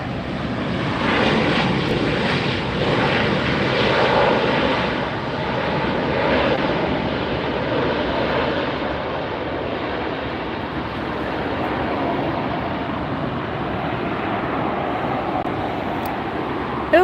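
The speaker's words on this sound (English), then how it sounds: "Here comes the Southwest for a landing." A Southwest airliner coming in to land at LAX, its engines a steady broad roar that holds strong throughout with slight swells, heard from close by without talk.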